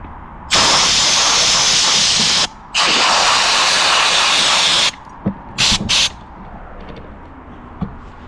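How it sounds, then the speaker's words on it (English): Canned air hisses loudly through an old, rusty outdoor light fixture in two long sustained blasts, followed by several short spurts and quieter background. "we're going to take some canned air and blow that out"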